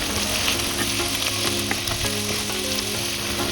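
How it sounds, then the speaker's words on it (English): Green peas and kidney beans sauté for Nigerian fried rice, a loud, continuous sizzle with the clatter of stirring mixed in throughout the short stretch. "then some green peas, some kidney beans, and then saute for a few more minutes"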